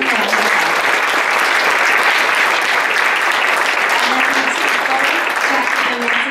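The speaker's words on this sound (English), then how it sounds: "Let's give them a round of applause." An audience at a novelists' reading in North Vancouver City Library applauds steadily, a loud, sustained wash of clapping from a roomful of people, with faint talk underneath toward the end.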